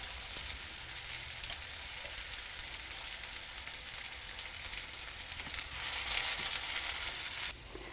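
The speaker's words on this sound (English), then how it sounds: "so we can start sauteing these and bringing out the sugars a little bit so they begin to caramelize" Spring onions and green garlic sauté in a hot pan on medium-high heat, giving a continuous crackling sizzle that swells slightly near the end, heard alone and close.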